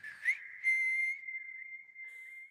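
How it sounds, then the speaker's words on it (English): Clean, bright whistled melody from a song, a held tone with a few short rising notes, heard alone with no voices and a brief added flourish near the end. "Oh my God, I love this whistle."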